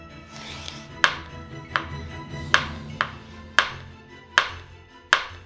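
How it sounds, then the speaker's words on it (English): A knife slicing summer sausage on a cutting board, seven sharp knocks of the blade hitting the board at a steady, unhurried pace, close and clear with no voices. "Next, I'm just going to slice the summer sausage."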